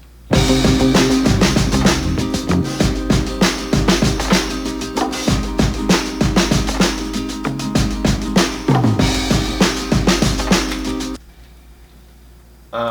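Gentle strummed acoustic guitars layered into a dense song mix over a strong bass and drum groove, loud and steady, cutting off near the end to leave a faint tail.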